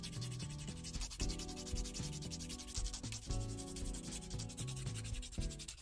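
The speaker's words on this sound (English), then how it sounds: "I'll file them a little bit, shape it out so they don't have jagged edges." Fingernails being filed with a nail file, a steady rapid scratchy rasp of back-and-forth strokes, close and continuous with no talking.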